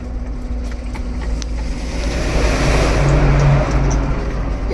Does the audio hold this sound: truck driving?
yes